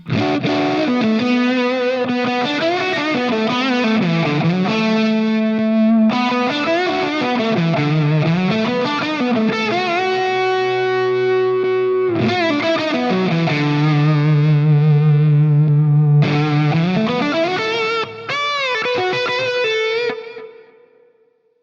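Electric guitar with thick fuzz tone plays sustained, bending lead notes, loud and close, ending with a fade.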